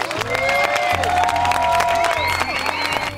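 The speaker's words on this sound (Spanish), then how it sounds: "todos nosotros le vamos a brindar un fuerte aplauso a la pareja" At a wedding ceremony in Villa Allende, Córdoba, Argentina, guests clap for the newly married couple, scattered claps mixing with cheering and whoops in a lively, fairly close burst with voices rising over it.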